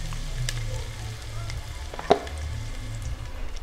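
Olive oil sizzles in a pan while shrimp cook, a steady close frying crackle with one sharp utensil clink partway through, no talking.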